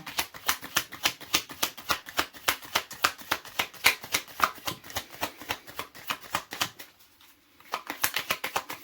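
Playing cards are shuffled repeatedly in quick riffling bursts, close and crisp, with a brief pause before the shuffling resumes.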